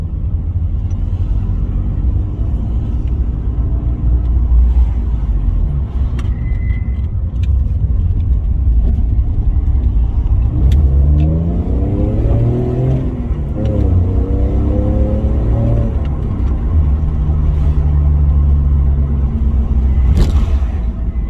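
An Alfa Romeo GTV engine with 142,000 miles hums and rumbles steadily while driving, with a few rising revs as it accelerates through the gears; no talking.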